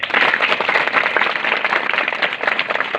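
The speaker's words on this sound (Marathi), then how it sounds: "एकदा जोरदार टाळ्या होऊन" Loud, dense applause from an audience at a felicitation ceremony honouring a headmaster, many hands clapping together in a steady roar that runs the whole stretch without talk.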